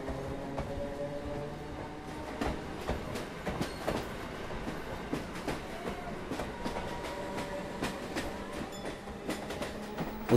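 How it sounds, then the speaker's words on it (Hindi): A Mumbai local train rumbles along the tracks with a steady clatter and occasional metallic squeals, heard from inside and fairly quiet, with no voices. "ट्रेन का गुनगुनाना"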